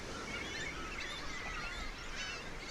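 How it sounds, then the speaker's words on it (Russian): Bering cormorants call from a seabird colony on the Sea of Japan coast in Primorye, a steady chorus of hoarse, honking and croaking voices at moderate distance with no talk. "Это берингов баклан."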